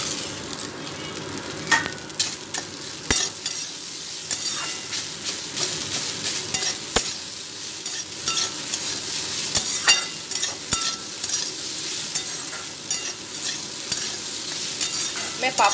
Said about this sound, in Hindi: अब इसमें पापड़ क्रश करके मैं डालूंगी।